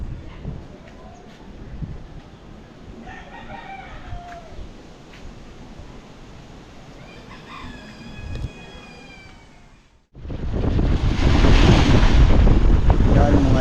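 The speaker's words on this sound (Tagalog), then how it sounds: "ito yung lakas ng amihan. Alon." A strong amihan monsoon wind blows over waves at sea: a low wash with a few faint chirping calls gives way to a sudden, loud, roaring gust that buffets the microphone.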